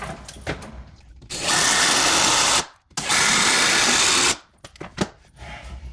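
A power drill drives screws while a shower niche is rebuilt, two loud sustained whirring bursts of a second or more each, separated by a short pause, with a few clicks and knocks around them.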